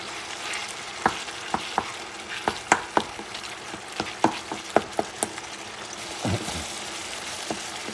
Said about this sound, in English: Mix things together again.